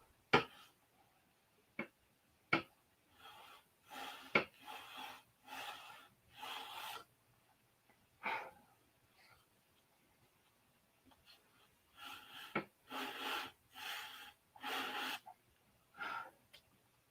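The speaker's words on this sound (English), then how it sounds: "I think we'll sand them." Small parts for a P-47 scale model being sanded by hand, short raspy scrubbing bursts in groups with pauses between them, plus a few sharp taps, close and fairly quiet.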